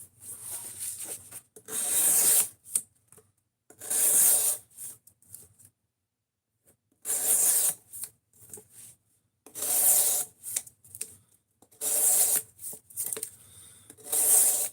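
A Tonto-point knife being sharpened, rhythmic rasping strokes of the blade across a sharpening surface in short bursts separated by quiet gaps, close and clear with no talking.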